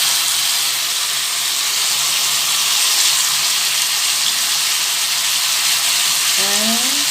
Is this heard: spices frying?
yes